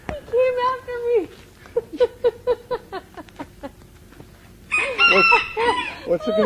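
A rooster crows loudly and close by, with a run of shorter clucking calls in between, ending in another strained crow.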